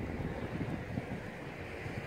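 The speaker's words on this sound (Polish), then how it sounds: "wiatr wieje" Wind blowing outdoors across a Rode VideoMic Me microphone with its furry windscreen removed, producing a continuous low, muffled rumble at an even level, with no voices.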